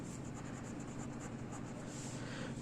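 Marker or chalk strokes on a classroom board while working a molarity problem for NaOH, a faint continuous scratching of rapid repeated strokes for a couple of seconds, close but quiet.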